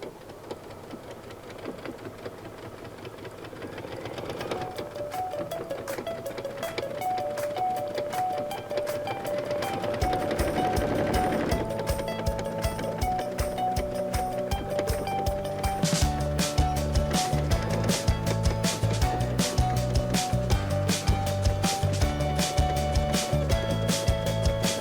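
A Brother Luminaire sewing machine stitches a buttonhole, starting partway through as a quiet, fast, even mechanical stitching rhythm that runs steadily to the end under faint background tones.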